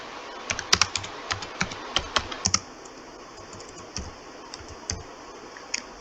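Keystrokes on a computer keyboard, a quick run of sharp clicks in a burst, then a pause and a few scattered taps, close by and moderately quiet, with no talking.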